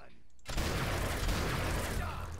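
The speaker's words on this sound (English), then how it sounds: "Just keep shooting." Rapid gunfire in the video game 7 Days To Die, a dense, loud, continuous burst of shots starting abruptly after a quiet moment.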